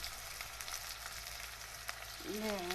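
Asafoetida hits hot oil in a home kitchen pan while sour raw-mango saar is being prepared, giving a loud, dense, continuous sizzle and crackle that holds steady throughout, with a brief tonal hum rising near the end.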